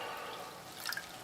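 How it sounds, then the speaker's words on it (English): Beef broth poured into a pan for beef stroganoff, a faint close stream of liquid with a brief splashing, dripping patter near the end, quiet and with no voices. "now we're gonna add some beef broth to it"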